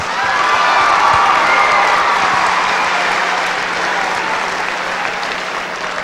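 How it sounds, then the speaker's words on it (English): An audience at the 2006 Iowa FFA State Leadership Conference gives the Iowa FFA band a loud, sustained round of applause with some cheering, slowly tapering off. "Let's give our Iowa FFA band one more round of applause."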